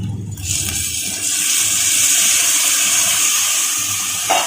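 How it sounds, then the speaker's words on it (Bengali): A little water poured into a pan of spiced cooking prawn curry with salt and chili powder, producing a loud, steady hissing gush that runs nearly unbroken for a few seconds. "দিয়ে দিচ্ছি অল্প একটু জল।"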